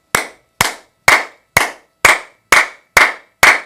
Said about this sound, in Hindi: अब आप जब ताली बजाओ इसकी, तो इतनी जोर से बजाओ कि पूरे के पूरे चैनल्स आपके खुल जाए